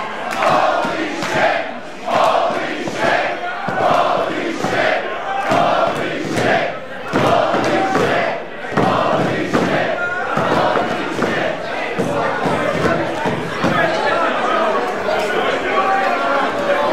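A wrestling crowd goes wild after a ladder match leaves four men down, sustained loud cheering and yelling with rhythmic surges, chanting and a few thuds, filling the whole stretch.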